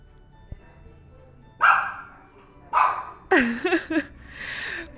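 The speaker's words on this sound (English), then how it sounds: "this is my little doggy here" A small dog barks several times nearby, a couple of sharp yaps followed by a rising, whiny bark and a softer trailing call.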